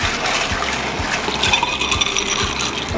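Ice rattles and clinks in a glass as a bourbon ginger cocktail with lemon is stirred, a regular rhythmic clatter of about six strokes repeating up close.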